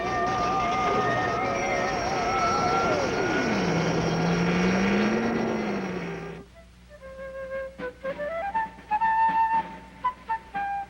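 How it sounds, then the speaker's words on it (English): Cartoon aircraft motors whine loudly with wavering, swooping pitch that dips low as they reverse for landing, then cut off into a series of short musical tones. "Reverse motors"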